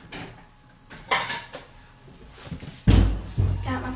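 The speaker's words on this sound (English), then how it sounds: "I'm going to get a plate and scrape the extra eggs" Scrambled eggs get scraped from a pan onto a small plate in a kitchen: scattered clinks and scrapes of cookware and utensils, with a heavier clatter near the end and a voice talking in between.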